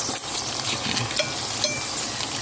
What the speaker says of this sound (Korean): 지금 김부각을 튀기고 있어요.